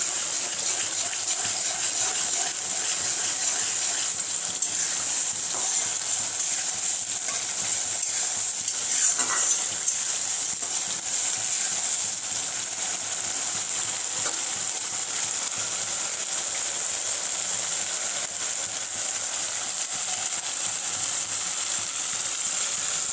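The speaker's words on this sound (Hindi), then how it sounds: "अच्छे से इसको हमें भून लेना है।" Chicken wings fry in a pan with a steady, close hiss of oil that holds evenly throughout, with a brief stirring scrape partway through and no talking.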